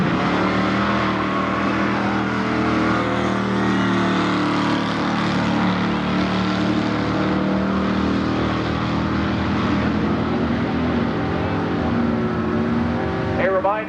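Drag racing cars, a Super Sport Chevrolet Chevelle and a 5-liter Ford, at Milan Dragway's 1992 high school nationals, with a sustained loud engine roar holding steady throughout and a voice mixed into the noise.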